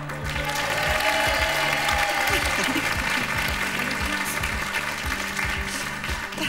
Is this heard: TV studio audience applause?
yes